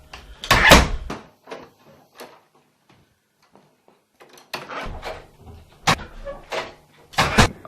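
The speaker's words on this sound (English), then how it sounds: "Every door has to be opened and closed 3 times before and after going" A door is opened and closed several times indoors, giving a series of sharp knocks and thuds separated by brief pauses, fairly close and heard alone.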